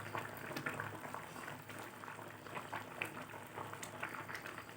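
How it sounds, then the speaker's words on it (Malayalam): Choora fish curry boils in a pot, a soft steady bubbling texture that stays fairly quiet and even throughout with no speech. "മീൻ നല്ലപോലെ തിളച്ച് വന്നിട്ടുണ്ട്"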